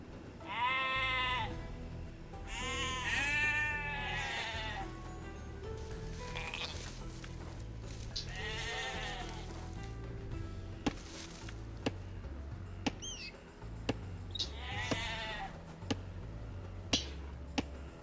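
Sheep bleat repeatedly in Age of Empires II: Definitive Edition on Xbox Series S, several clear harmonic calls spaced across the stretch over a low steady game music bed, with sharp clicks near the end.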